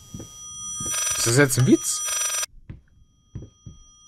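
A shrill, harsh telephone bell in the horror game Layers of Fear rings for about a second and a half, loud and close, with someone talking before and after it.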